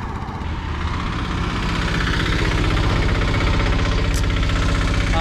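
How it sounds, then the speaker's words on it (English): A tuk-tuk's small engine runs steadily close by on a street in Malindi, Kenya, with a continuous buzzing, knocking drone and no talk. "Oh, look, there's a tuk-tuk here."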